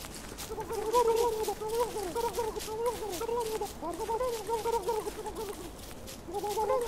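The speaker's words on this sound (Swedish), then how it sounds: "Kalkonen." A turkey gobbler in the Don't Starve video game clucks and warbles in repeated short bursts, fairly close and clear, under quiet background game noise.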